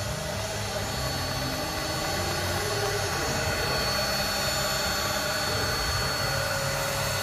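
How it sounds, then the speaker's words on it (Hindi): A DSP A11 controlled machine runs with a steady, dense whirring drone and broad hiss, holding an even loud level throughout with no talk. "अब मैं इसको जब बढ़ाऊंगा तो ये तेज़ हो जाएगी।"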